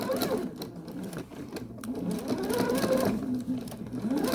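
A sewing machine with a walking foot stitches in steady rapid bursts while echo quilting, close and fairly quiet, with a brief pause partway through and no talking.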